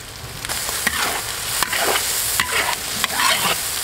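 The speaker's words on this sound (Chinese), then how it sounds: "五成油温下入肥肠煸炒，煸出油脂，放入葱姜蒜、干花椒，继续煸炒" Fatty pork intestines stir-fried in hot oil with scallion, ginger, garlic and dried Sichuan pepper: a loud, steady sizzle, broken by sharp scrapes and clacks of the spatula tossing the pieces.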